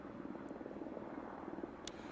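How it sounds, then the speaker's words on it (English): A news helicopter hovers above a crash scene in the eastbound lanes of I-70 in Licking County, a steady low rotor drone heard from inside the aircraft, continuous and even. "Rick is looking at the scene from above in Chopper 4"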